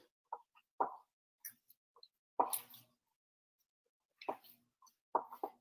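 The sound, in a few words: mixing flax egg into a food mixture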